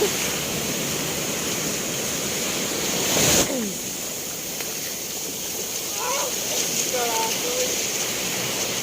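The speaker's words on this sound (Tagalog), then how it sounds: "So kayog balod." Big sea waves wash steadily onto a beach shore, a loud continuous surf roar up close with a brief burst of noise partway through and faint voices in the background.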